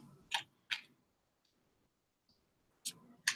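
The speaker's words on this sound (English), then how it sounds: "I'm just shuffling till we're ready." A few quick bursts of riffling card shuffles, two close together, a pause, then two more, crisp and near against quiet.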